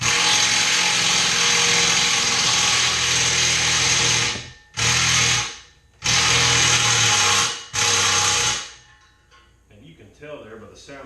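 A power impact wrench drives a bolt home during assembly of an express wrapper, with three or four long loud bursts of whirring hammering separated by short pauses, then quieter rattling afterward.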